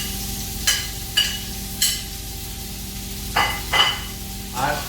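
Onion sautés in oil in a pan, with a constant sizzle broken by several sharp scraping and clinking utensil strokes at irregular intervals, near and fairly loud, alongside a faint steady hum.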